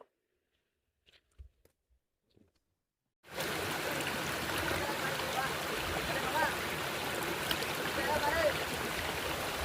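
Water rushes steadily at Malla waterfall, a dense continuous roar that kicks in suddenly after a few seconds of near silence broken only by faint knocks.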